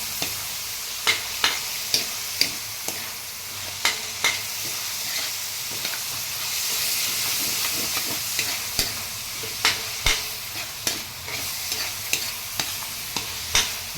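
Kalangga being sautéed with seasoning in a hot pan, steady frying sizzle under a run of sharp, regular stirring scrapes and taps from a utensil, close and fairly loud, with no talk.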